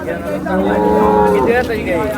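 Cattle lowing at a village cow market, one long, loud, close moo that swells and then fades, with faint background bustle and no talk.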